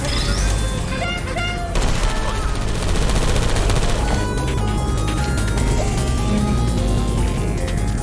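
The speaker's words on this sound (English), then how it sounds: "I heard gunfire." Gunfire crackles in Portal 2, loud and continuous, dense bursts and crashes mixed with clatter and a busy background, with no clear pauses.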